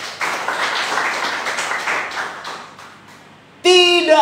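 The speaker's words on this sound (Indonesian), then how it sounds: "Boleh tepuk tangan buat Tuhan." Church congregation clapping hands: a dense wash of clapping that thins out toward the end, followed by a sudden loud tonal musical burst.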